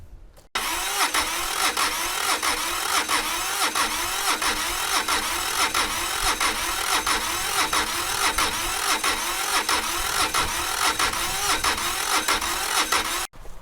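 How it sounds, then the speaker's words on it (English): A Toro diesel lawnmower engine cranks over steadily for about thirteen seconds without catching, making a loud, rhythmic, evenly pulsing starter churn that cuts off abruptly at the end. "before we try cranking this thing over"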